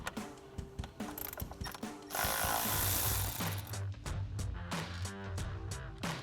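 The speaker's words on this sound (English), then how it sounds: "We'll grab an 8mm socket, pop these out." A socket wrench clicks in quick ratcheting bursts while 8mm bolts are backed out of a Bronco's engine bay during a cold air intake install, close and crisp, with a short louder metallic rasp in the middle.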